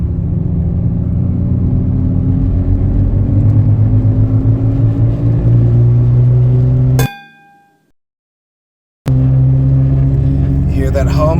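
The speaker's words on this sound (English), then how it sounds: "we're going to hear that howling noise kick in at about 30 miles an hour" A car with a bad wheel bearing drives at road speed with a steady, low howling hum under the road and engine noise, broken by a brief silent gap before the drone resumes.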